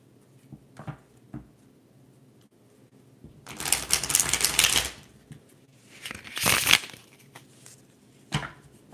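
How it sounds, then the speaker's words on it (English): Tarot cards are shuffled in two long riffling bursts, separated by quiet moments with a few soft taps and handling sounds, heard up close. "All right, let's shuffle, shuffle, shuffle."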